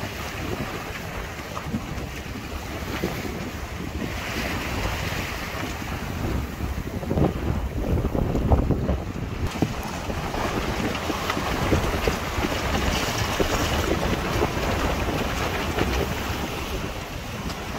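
A sailboat surges through waves at up to 9.5 knots near Rame Head and Plymouth Sound, water rushing and slapping against the hull while wind buffets loudly across the microphone throughout.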